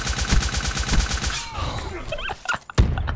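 Rapid bursts of nail gun SMG fire in Black Ops 3, loud and rhythmic for about a second and a half, then scattered shots, clicks and a sharp final bang.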